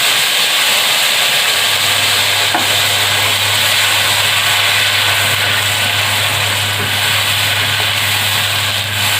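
Goat liver sizzles and hisses loudly in a pan as tomato paste goes in, a steady close frying noise throughout with no talk.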